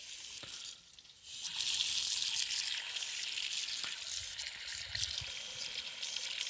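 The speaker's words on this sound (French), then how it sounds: "Et on va remplir ça d'eau." Water runs into a cooking pot from a tap in a steady, close hiss that starts after a brief pause and keeps flowing, slightly shifting in tone as the pot fills.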